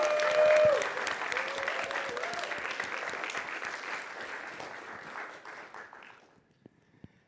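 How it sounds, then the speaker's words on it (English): Sustained applause from a startup demo day audience, dense steady clapping that gradually thins and fades out near the end, leaving a few scattered claps. "So if we could give them a big round of applause for helping out."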